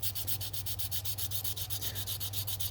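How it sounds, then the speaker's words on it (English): Rhythmic back-and-forth sanding strokes just behind the button on a reed's bite zone, about eight strokes per second, close and steady with no talk over it. "You do want to keep it right there so you can sand right behind the button"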